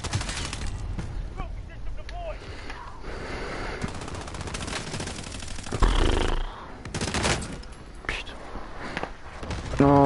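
Gunfire in the Call of Duty video game, dense bursts of automatic shots and single cracks from a multiplayer match that run steadily under a voice.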